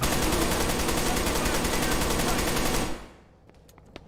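Sustained dense automatic gunfire in Arma 3, a loud continuous rattling stream that cuts off abruptly, followed by a few faint distant shots and quiet.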